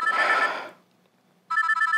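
A telephone rings with a bright electronic ringtone, a burst that fades out, a short pause, then the ring starts again, loud and close with no talk.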